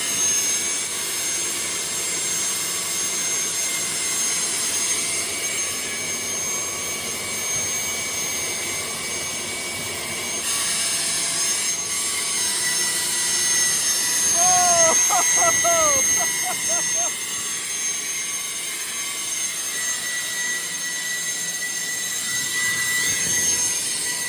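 A jet turbine engine fitted in a Camaro roars continuously at close range, a loud steady whine and rush with rising tonal sweeps midway, with some voices faintly under the noise.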